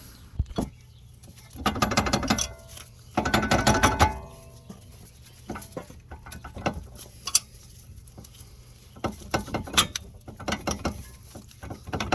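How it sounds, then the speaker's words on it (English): A ratchet clicks in bursts while loosening control arm bolts on a 2012-2018 Nissan Altima, the rapid pawl ratcheting close by and separated by quieter clunks and pauses. "we're going to start popping these bolts out"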